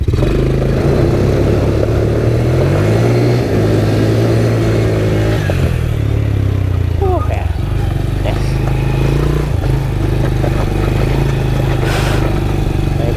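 An ATV engine revs and strains in low gear, the steady loud motor drone rising and falling in pitch throughout, with a rider talking over it.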